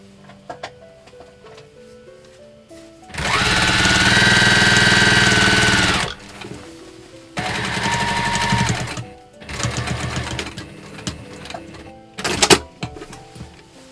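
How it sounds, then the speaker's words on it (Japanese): A sewing machine stitches the hem of trousers remade from a kimono in three loud, steady bursts of motor whirring, separated by short pauses and a faint clatter, with soft background music underneath. "パンツの裾縫います。"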